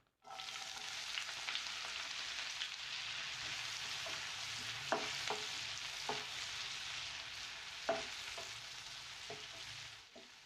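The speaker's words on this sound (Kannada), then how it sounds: "ಇದು ಚೆನ್ನಾಗಿ ಈರುಳ್ಳಿ ಫ್ರೈ ಮಾಡ್ಕೊಳ್ಳೋಣ" Onions fry in hot oil for egg chilli Manchurian, giving a steady, close sizzle that carries on without break, with a few faint clicks and stirs over it.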